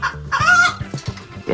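Hens clucking at close range: a few loud, choppy clucks and squawks in quick bursts, with no talk over them.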